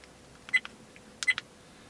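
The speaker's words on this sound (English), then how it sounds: "That's that annoying little beep every time you touch something" A Vantrue dash cam gives two short electronic beeps about 0.7 seconds apart, each a small double chirp, crisp and close against faint background hiss.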